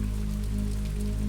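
Steady rain patters on a surface at night under a low, constant hum, soft and even with no voices, setting a spooky village mood.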